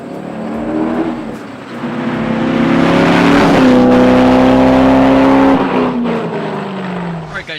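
A C5 Corvette's engine runs loud and close during a test drive, its harmonic drone rising as it revs and accelerates, then easing back down, steady throughout with no talking.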